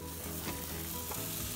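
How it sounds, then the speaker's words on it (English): Salmon fillet laid skin side down on a barbecue grill, topped with butter, garlic and roasted green peppers, gives off a steady, close, crackling sizzle with no talk over it. "I like that sizzle."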